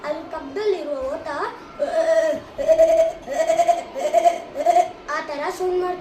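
A voice imitates a male goat (billy goat) bleating, giving a run of wavering, quavering bleats that rise and fall in several bursts, loud and close, with no other sound behind it.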